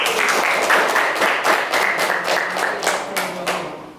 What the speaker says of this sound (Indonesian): Itu Jawaban yang sangat bagus, berikan tepuk tangan dulu